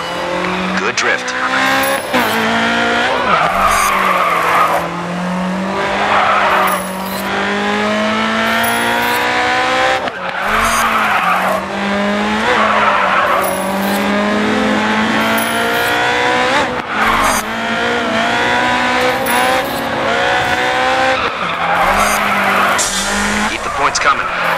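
Car tyres squeal and skid continuously while drifting in the racing video game GRID 2, with a revving engine throughout and a voice talking over the loud, sustained screech.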